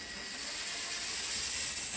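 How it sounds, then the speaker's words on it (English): A power driver backs trim head screws out of floor trim at a doorway floor transition, a continuous high whirring, ratcheting buzz that grows slightly louder over two seconds, close up, with no talking. "So I'm removing these trim head screws, and then I'll see if I can remove this piece easily"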